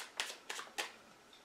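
Tarot cards shuffled by hand in three quick riffling bursts, each a short crisp flutter of card edges, close and fairly quiet with no talking.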